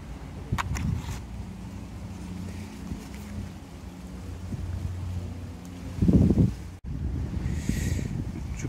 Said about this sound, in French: je vous préviens, il va y avoir du vent